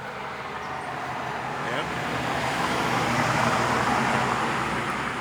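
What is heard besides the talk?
road traffic noise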